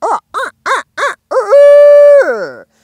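An aggressive laughing owl call is imitated by a human voice for turkey hunting: four short, sharp hoots in quick succession, then a loud, sustained, wavering cry that trails off, close and alone.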